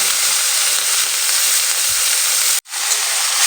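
Small shrimp coated in salt and turmeric frying in hot oil, a loud steady sizzle and hiss close up, briefly cut off near the end before resuming.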